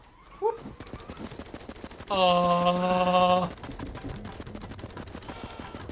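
Rapid machine gun fire rattles in bursts in the gorilla game Ape Out, a fast steady stutter of shots carrying through most of the stretch alongside a loud sustained musical tone and some voices.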